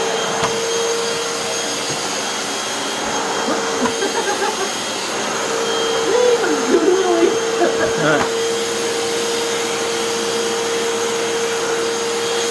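Santaire Extend Mighty Mite vacuum cleaner running steadily and loud, its motor pitch rising and straining as speed increases, with a few faint bumps and rustles over the continuous whine.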